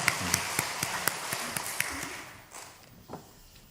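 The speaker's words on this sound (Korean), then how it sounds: "우리 하나님께 감사의 박수로 영광 돌리겠습니다" A church congregation claps in thanks to God during a Sunday service: crisp, separate claps sound for about two seconds before tapering off into quiet room tone, with a faint voice underneath.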